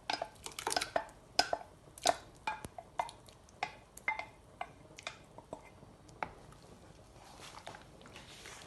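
A spoon stirring ground rice into milk in a pot, making a series of close, light clinks and scrapes against the metal in an irregular rhythm, gradually getting quieter, with no voices.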